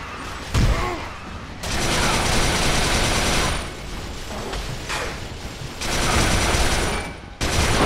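Gunfire in the shooter Resistance 3, sustained bursts of rapid automatic fire in long stretches separated by brief lulls, loud and close with mechanical clatter and no talk.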